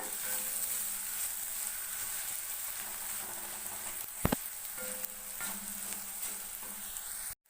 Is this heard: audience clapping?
no